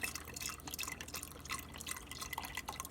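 Broth poured into a pot of beans with spices in a home kitchen, a busy liquid splash with dripping, trickling detail running steadily for about three seconds, fairly quiet and with no talk.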